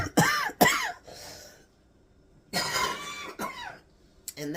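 Two bouts of harsh coughing nearby, each a cluster of rough hacks, separated by a brief quiet gap.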